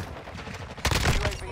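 A Kastov 762 rifle fires in Modern Warfare 2, a sudden loud burst of rapid gunshots cutting in after a second of quieter game ambience.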